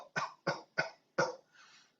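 Four sharp, evenly spaced coughs during a breathing exercise in a healing class, close and fairly loud, followed by a softer breathy exhale.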